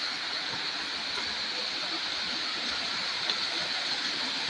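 Liguanan Falls, also called Bikang Falls, a continuous broad hissing rush of falling water, steady and fairly loud with no pauses.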